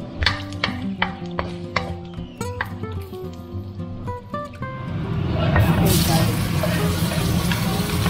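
Garlic frying in olive oil for pasta puttanesca: plucked, tonal notes give way partway through to a steady, close sizzling hiss that holds to the end.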